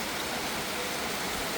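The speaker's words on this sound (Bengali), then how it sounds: "অনেক অনেক বৃষ্টি।" A brief stretch of heavy rain falling on a balcony in Bangladesh, an unbroken broadband wash of pattering water, loud and near, with nothing else over it.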